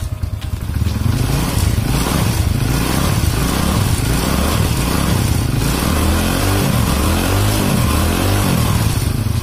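A Kanzen motorcycle engine runs loud, smooth and steady, revving up and down in repeated throttle swells.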